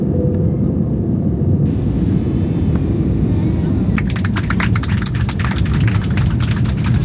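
Airplane noise at an airport far from the city, a loud steady broadband roar filling the space, with rougher crackling texture joining in partway through.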